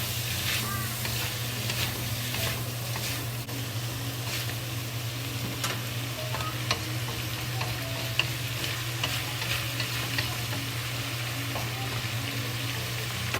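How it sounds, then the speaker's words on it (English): Steady sizzling as celery and pork stir-fry in a pan, with occasional scrapes and clinks as food is stirred, continuous throughout. "You keep frying."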